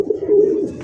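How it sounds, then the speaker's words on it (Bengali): A male red Sirazi pigeon gives one short, loud, close coo, a low throaty call held briefly before fading. "রেড কালারের মধ্যে সিরাজি, যে ডাকতেছে এটাই হচ্ছে নর।"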